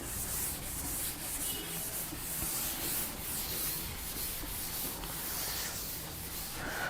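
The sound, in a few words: rubbing writing off a blackboard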